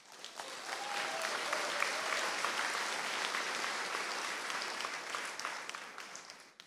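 Sustained applause from a studio audience at a Russian-language tough-talk coaching show, a dense, steady clatter of many hands lasting several seconds with no talking over it.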